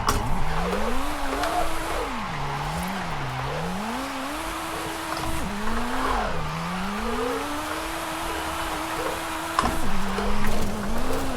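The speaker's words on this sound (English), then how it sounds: "Little clutch kick. Third gear seems to be money." A light, 300-horsepower, 1,500-pound car drifts in Forza Horizon 5 using a clutch kick in third gear: its engine revs rise and fall in repeated surges over continuous tire squeal, loud and close throughout.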